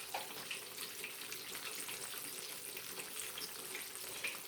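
Chicken coated in batter frying in hot oil in a pan, a steady close sizzle and crackle that holds unbroken throughout with no voices.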